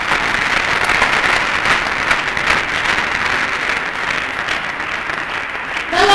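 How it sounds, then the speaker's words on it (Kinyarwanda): Congregation applauding in praise of God inside a church, a steady broadband wash of many hands clapping continuously throughout, fairly loud and dense, with a brief swell near the end. "Imana ikomererwe amashyi mu nzu yayo"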